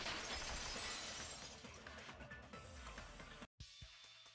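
A vase shatters in the video game Danganronpa 2, a dense, bright crash of breaking glass and ceramic that fills the clip, tapers off, then cuts briefly to silence before faint tinkling.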